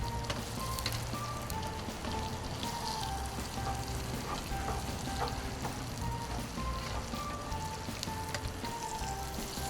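Steady hissing patter of rain on a surface, constant and close, with faint tones threading through the wash of noise.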